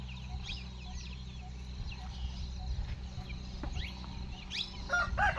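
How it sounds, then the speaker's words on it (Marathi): Free-range village chickens cluck and chatter on and off in a steady farmyard din, with a few sharper calls near the end; no one speaks. "बघा ना तीन महिन्यातच एवढ्या कोंबड्या झाल्या त्यांच्याकडे"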